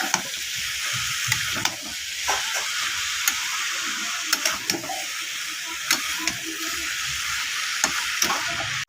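Bottle gourd sizzles and fries in a pan of spiced shrimp masala while being stirred, a steady close hiss with small scraping and clicking stir sounds throughout.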